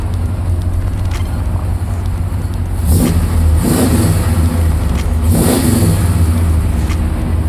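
A 1967 Chevrolet Impala Custom engine idles steadily, then is given gas in two short revs that swell and fall back, loud and close throughout.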